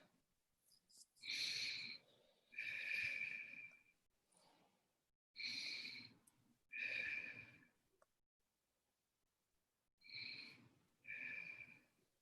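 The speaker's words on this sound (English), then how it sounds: "we're going to take 3 deep breaths" Deep breaths during a guided meditation come through as slow, airy inhales and exhales, about six soft breath sounds in paired rhythm with quiet gaps, close and faint.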